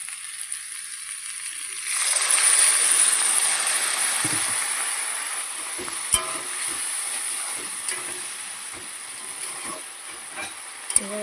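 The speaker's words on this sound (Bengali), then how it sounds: "সামান্য একটু জল দেবো।" A splash of water hits a hot cooking pan and sets off a sudden loud steamy hiss that keeps going and slowly fades. A few sharp clicks and taps come through on top of it.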